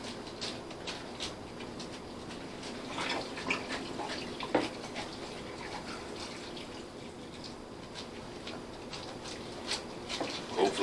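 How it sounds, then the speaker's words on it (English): Tap water running steadily into a glass jar, a continuous splashing, gurgling fill with small drips and clinks, fairly close and alone for about ten seconds while preparing a pressure-cooked ham. "we're going to fill this water up until it's about 1 inch from the top"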